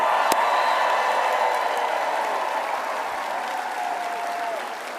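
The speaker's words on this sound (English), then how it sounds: "let's take a moment and give a grateful round of applause for our first responders" A rally crowd in Reno, Nevada applauds first responders, producing steady, dense clapping with faint cheers that holds for the full five seconds and eases slightly toward the end.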